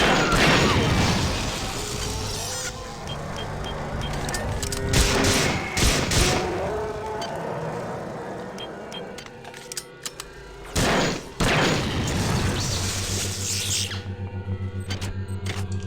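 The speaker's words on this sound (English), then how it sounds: "Apparently rocket turrets are just a thing in the future." Rocket turret fire in System Shock 2, a dense, loud run of blasts and explosive bursts that continues over mechanical clatter, with a few brief gaps and then a steadier tail, with no voices.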